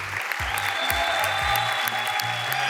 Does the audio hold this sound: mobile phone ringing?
no